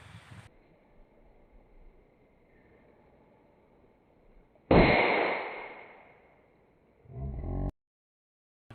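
A single sharp gunshot fired at a punai bird during an outdoor hunt: one close, abrupt blast that decays over a couple of seconds against quiet background.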